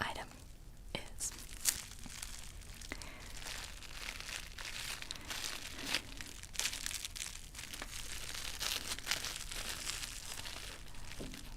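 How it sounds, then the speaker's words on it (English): Protective plastic packaging being unwrapped close-up in a soft-spoken ASMR unboxing: continuous crisp crinkling and tearing rustles, with quiet whispered talk throughout. "Let me unwrap this a little bit"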